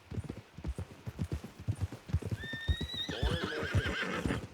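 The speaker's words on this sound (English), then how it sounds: "O cavalo é grande mesmo, tá louco?" A big horse in Red Dead Redemption 2 clip-clops at a steady walking rhythm, then lets out a loud, drawn-out whinny that trails off over the hoofbeats.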